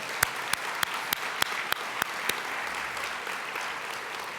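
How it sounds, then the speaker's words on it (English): A crowd applauds at the 2019 State of the County event in Houston, with a steady wash of clapping and a few sharp, loud individual claps ringing out at regular intervals over the first half. "Can we have a round of applause for all of them?"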